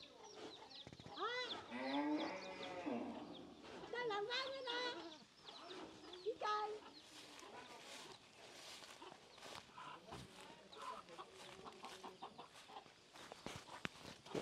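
Farm chickens cluck and squawk close by, with a burst of agitated calls early on, followed by scuffling and shuffling as people talk over them while trying to catch one.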